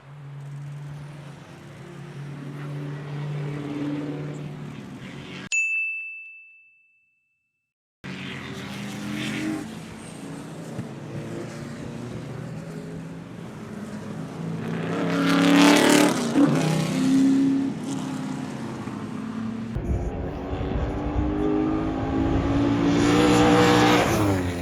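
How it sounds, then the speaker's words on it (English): A Porsche 964 race car roars through a race at Oulton Park, engine note rising and falling with gear changes and passes, cut by a brief silent gap, then louder revving and acceleration toward the end. "The 964 Porsche is responding beautifully,"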